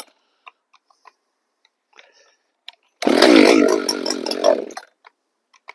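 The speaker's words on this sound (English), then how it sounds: "I got the saw outside and this is gonna be the first start with the mods" An Echo CS-590 chainsaw with a bypass mod starts on choke after a few faint pull clicks, then runs loud and close with a rough, buzzing idle for about two seconds before cutting out.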